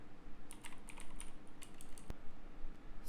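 Light, uneven keystrokes on a computer keyboard, with a quick burst of clicks and one sharper key strike, heard close during JavaScript coding in a quiet room.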